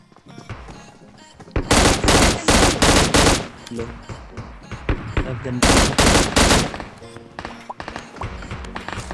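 Automatic M16 gunfire in the mobile shooter game FAU-G, with loud sustained bursts separated by short pauses and quieter shots between them, with no talking.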